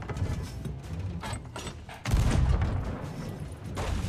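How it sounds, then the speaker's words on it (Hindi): Booming ship cannon blasts ring out in Sea of Thieves, a heavy shot landing midway with a deep rumble, amid clanking mechanical noise and scattered explosive cracks during a fight with skeletons. "अभी मैं इनको मारता हूँ तोप से"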